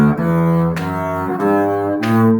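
A bowed double bass plays the opening two measures of an Allegro at a slow practice tempo: four sustained notes in steady succession, close and full, with no talking.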